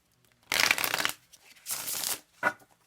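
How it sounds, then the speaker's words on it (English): A tarot deck is riffled and shuffled in three quick bursts, crisp and close, with short pauses between. "I love the way this deck shuffles."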